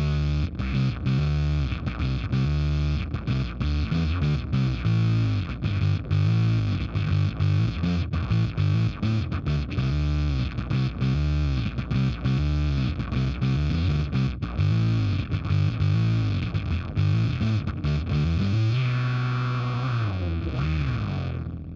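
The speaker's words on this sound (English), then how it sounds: "I think it's a really cool sounding solid synth sound that can cover kind of all bases" A thick, heavily distorted synthesizer patch with effects plays a continuous gritty bass-heavy line, loud and unbroken for the whole stretch, then a sustained chord rings out at the end.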